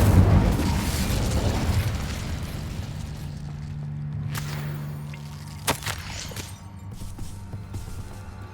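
Incendio fire spell in Hogwarts Legacy on Xbox Series X: a roaring burst of flame with rumbling low impact that fades out, followed by a couple of sharp cracking snaps.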